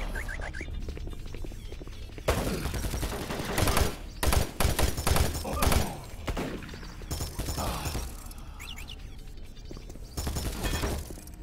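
Sentry Bot gunfire in the Doom 3 video game: repeated loud bursts of automatic fire and heavy impacts, dense and rapid, with louder clusters in the middle and sustained shooting throughout.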